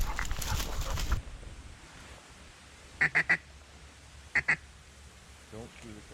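Mallard ducks quack in two short bursts, a rapid triple call and then a quick double, fairly close in open duck-hunting country after a stretch of heavy wind or rustling noise.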